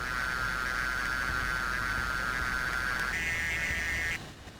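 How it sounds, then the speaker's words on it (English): A steady electronic growl tone from a real-world infrared guided missile seeker, a continuous buzzing hum that steps up in pitch near the end and then cuts out abruptly, with no talking. "real-world infrared guided missiles have a very telltale growl."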